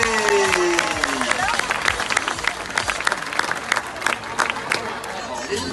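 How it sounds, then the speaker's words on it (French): An amusement park crowd at Walibi's diving show bursts into loud, dense applause with scattered cheers and murmuring voices mixed in, sustained throughout. "je vous demanderai un tonnerre d'applaudissements enflammés pour notre torche humaine"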